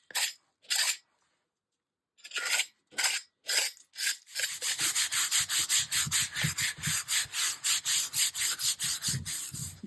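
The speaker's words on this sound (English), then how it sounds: "Am I scraping it with the palette knife?" A palette knife scrapes dried paint from a surface. A few separate strokes come first, then a long run of rapid, evenly spaced rasping strokes, close and fairly loud. No one speaks.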